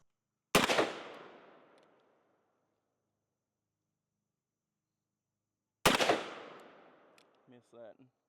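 Two sharp .357 Magnum shots ring out from a Korth Ranger revolver outdoors, several seconds apart, each a loud crack with a long decaying tail, followed by someone speaking briefly.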